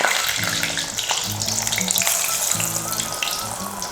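Ubbal adai batter sizzles steadily in hot oil, a dense continuous frying crackle with bubbling, heard up close with no talking.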